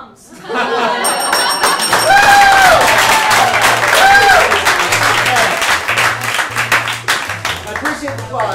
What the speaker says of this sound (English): I appreciate the applause, everybody.